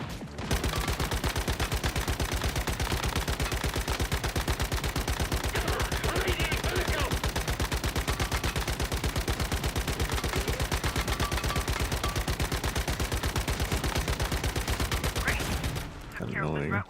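Rapid automatic gunfire from the survival shooter game Once Human rattles almost nonstop for about fifteen seconds, loud and dense like a sustained machine-gun burst, then cuts off abruptly near the end.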